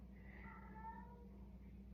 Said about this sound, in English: Yep, there goes my cat.